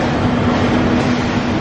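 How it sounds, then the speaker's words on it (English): Steady rumble of a train arriving at a station for the Yogyakarta to Bandung route, with a low mechanical hum and faint rattling, continuous and fairly loud, no voices. "All right guys, the train is here."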